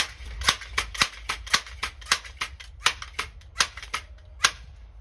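A Crosman 362 air rifle fires repeatedly, each shot a sharp, close snap arriving at a steady, fairly quick rhythm with brief quiet gaps between them.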